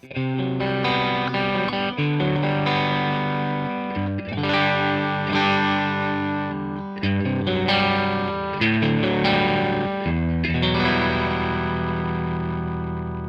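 Electric guitar chords ring out through a Catalinbread Karma Suture pedal at low density, shimmering with chorus and a touch of echo, several strums letting notes sustain and blend, loud and alone.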